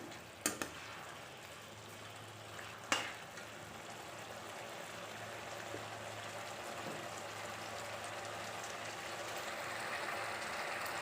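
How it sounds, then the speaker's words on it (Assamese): Pointed gourd curry bubbling in a covered pan gives a steady, soft sizzle and simmer, with a couple of sharp clinks near the start. "কিছু সময় এনেদৰে মই উতলিব দিম।"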